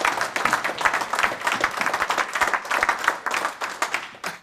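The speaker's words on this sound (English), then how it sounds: "That deserves a round of applause." Audience applause fills a room at a football legends night, a dense, steady wash of many hands clapping with faint crowd murmur underneath, holding strong for the whole stretch.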